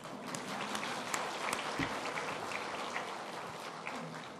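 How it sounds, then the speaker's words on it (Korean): A church congregation claps together during a sermon, a dense, steady patter of many hands filling the room at moderate loudness for several seconds. "이럴 땐 박수 한번 치십시다"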